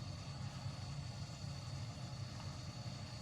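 A British Airways Boeing 787-9 airliner taxiing at Gatwick gives a steady, low engine rumble with a faint high whine over it, distant and continuous, with no voices.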